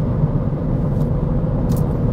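A Ford Fiesta ST cruising at 120-130 km/h fills the cabin with a steady low engine and road rumble, constant and fairly loud, with faint brief clicks above.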